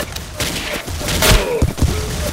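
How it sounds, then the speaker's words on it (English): Explosions and gunfire in the blocky shooter game Ace of Spades 2, a dense burst of thuds and sharp blasts, close and loud, with heavier booms near the middle and end. "Oh god, explosions everywhere."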